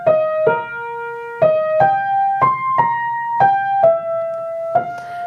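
A piano melody played legato with the fingers and no sustain pedal: about nine single notes, each struck and smoothly joined to the next at a moderate, steady pace, clear and close with a soft ringing decay.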